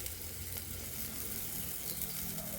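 Oil warming in a pan set over a wood-fired stove gives a faint, even hiss with no breaks, quiet and close.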